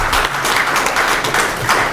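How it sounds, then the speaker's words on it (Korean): A lecture audience claps for a professor who spoke on Eastern mythology, the applause loud, dense and continuous, with many hands close together and no voices over it. "다시 한번 박수 부탁드립니다"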